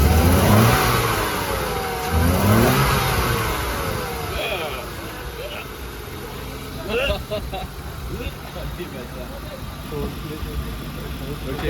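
A car engine revs hard at a drift event, rising and falling through a few loud accelerations close by before settling toward a rough idle, with people talking over it.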